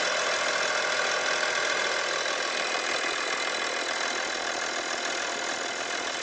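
An Audi 2.5 TDI Allroad diesel engine idles after starting, with a repaired turbo fitted, giving a loud, steady, even clatter close by with no talk over it.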